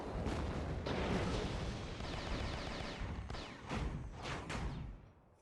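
A point-blank missile strike in a video game, dense continuous rumbling blasts and gunfire-like crackle that fill the whole stretch, loud and layered, easing off toward the end with no talking.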